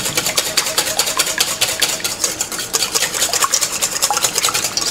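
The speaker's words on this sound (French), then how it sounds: "Et nous allons mélanger ça au fouet tout simplement." A whisk beating a seasoned leek custard mixture in a bowl, a fast, steady run of bright clinking and swishing strokes, close and continuous with no talk.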